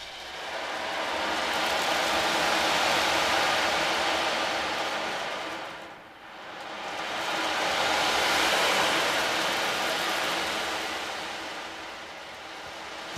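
An ocean drum imitates ocean waves, its rolling beads making two long, loud whooshing swells that rise and fade, with a brief dip between them.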